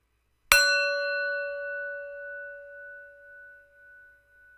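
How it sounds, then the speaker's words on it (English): A single bell strikes once, a sharp metallic onset followed by a long clear ringing tone that slowly fades and pulses over several seconds, heard alone. "We listen to the sound of the bell as we think about the new year"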